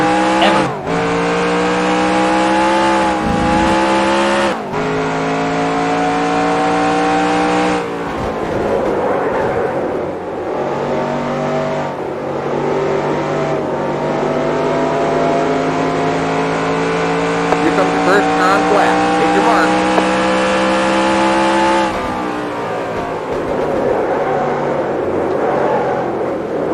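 Several race car engines scream around Phoenix in NASCAR Racing 2003, a loud, continuous layered drone with shifting pitch as cars dive into turn one, brief dips between gear changes and faint tire squeal mixed in.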